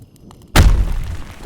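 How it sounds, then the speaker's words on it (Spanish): A single heavy, booming thud shakes a lighthouse structure, striking suddenly after near-silence, its deep low rumble lingering and slowly fading. "un golpe seco sacudió la estructura del faro"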